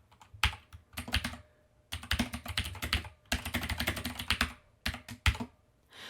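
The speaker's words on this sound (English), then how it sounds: "I'm going to type the text that I'd like for my off-the-record statement." Computer keyboard typing in bursts of quick, close key clicks, with short pauses between runs and no voices.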